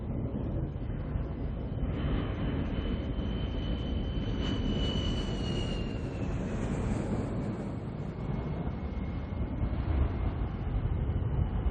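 A Russian transport aircraft flies low on cargo drop test runs, its steady engine roar continuous and fairly distant, with a faint rising and falling whine as it passes; no voices.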